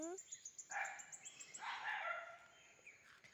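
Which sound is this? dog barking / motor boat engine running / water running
dog barking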